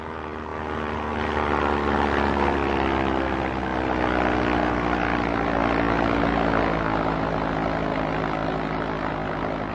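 Aircraft flying in the survival video game VAST Survival, a loud, steady propeller-engine drone with a strong tonal hum that holds throughout without any voices.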